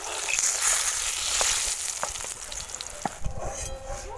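Aubergine slices crackle and sizzle in hot oil, a close, steady hiss broken by occasional sharp pops and spatula clicks, easing slightly toward the end with no speech.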